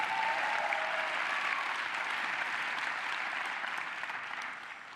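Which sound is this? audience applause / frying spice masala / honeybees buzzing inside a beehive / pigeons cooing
audience applause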